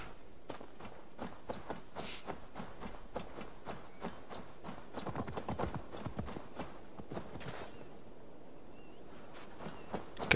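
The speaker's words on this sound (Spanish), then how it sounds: "Estúpido caballo." Horse hooves clip-clopping in the video game Assassin's Creed Valhalla, a steady run of light hoof strikes at moderate pace, fairly quiet, with no talk over them.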